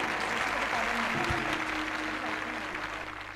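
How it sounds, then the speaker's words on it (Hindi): A church congregation at a prayer meeting claps together in steady, continuous applause that fades slightly toward the end. "इसलिए सभी जन जोर से तालियों के साथ"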